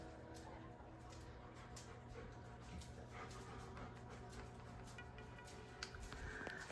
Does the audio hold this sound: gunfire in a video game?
no